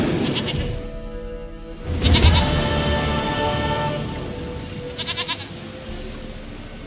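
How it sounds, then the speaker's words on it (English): Goat bleats in The Witcher 3 video game, several wavering calls rising over a background of ambient game music and wind, with a later burst of short quavering bleats near the end. "Goat of mine, dearest, sweetest goat."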